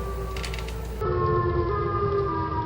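A monstrous Siren Head creature lets out an electronic, siren-like wail in a Batman fan film, with steady sustained tones that swell louder partway through, heard alone without speech.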